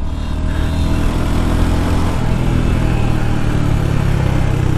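A Royal Enfield Hunter motorcycle engine drones loudly and steadily while riding in second gear at about 60, with constant wind and road roar throughout.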